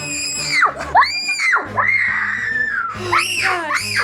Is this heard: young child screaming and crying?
yes